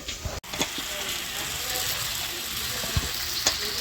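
Fried potatoes go into cooked masala in a pan for a rupchanda fish curry, bringing a sharp clatter and then steady sizzling and stirring with a few scrapes, close and fairly loud.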